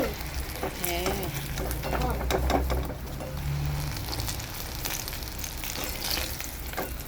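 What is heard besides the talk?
eggplant frying in a pan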